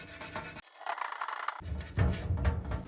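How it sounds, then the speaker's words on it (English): A Brillo pad scrubs leftover stickers off a minibike fuel tank in close, rough rasping strokes, with a short quiet break before the scrubbing resumes more heavily. "We'll get the remainder of these stickers off with some goof off and a Brillo pad."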